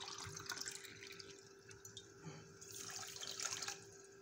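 Water running into a glass for the sugar syrup of a coconut basbousa, a faint, uneven trickle and splash that swells and fades over a few seconds, without speech.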